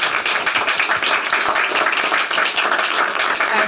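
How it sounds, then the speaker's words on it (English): Audience at a climate careers speaker event giving panelists a round of applause, loud, sustained clapping from a moderately sized crowd, close and continuous. "please give a round of applause for our panelists"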